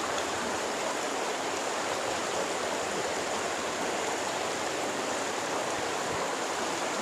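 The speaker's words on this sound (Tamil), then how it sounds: "ஸோ அந்த தண்ணி வந்து அப்படியே போயிட்டே இருக்குது" River water flowing past the Thooripalam bridge in Mettupalayam, a constant broad rushing roar heard steadily without pauses or voices.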